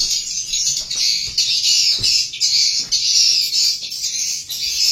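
Swiftlet chicks in a nest squawking as a parent bird arrives to feed them, rapid high shrill begging calls in repeated bursts, close and fairly loud.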